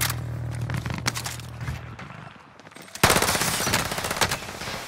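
Sustained automatic AK rifle fire from the Cold War AK in Warzone on Rebirth Island, loud and close, short bursts at first, then a dense continuous stream of rapid shots after a brief pause.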